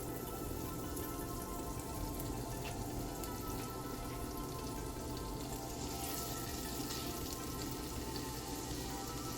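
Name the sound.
pork belly sizzling in a pot with olive oil and butter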